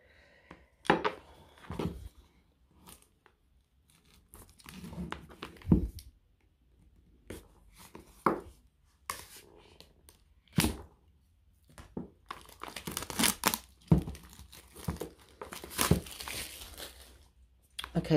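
A knife slices and tears through plastic wrap on a tarot deck, quiet close crinkling, scraping and sharp cracks in irregular bursts with short pauses between.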